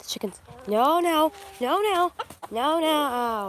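Synthetic chicken clucks and squawks in the game Water Simulator, three drawn-out warbling calls in quick succession, loud and close.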